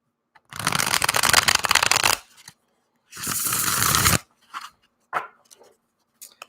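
Tarot cards being shuffled up close, two long crisp riffling bursts followed by a few short taps and card flicks in otherwise quiet surroundings.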